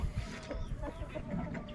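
Chickens cluck faintly in a short, noisy outdoor stretch, with soft scattered clucks under a steady background hiss.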